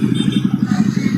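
A Jawa Perak motorcycle's exhaust note, a loud, close, deep thumping idle with an even, rapid pulsing beat throughout.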